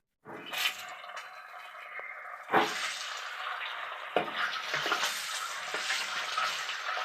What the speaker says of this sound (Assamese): এতিয়া ডিমকেইটা ফ্ৰাই কৰি ল'ব।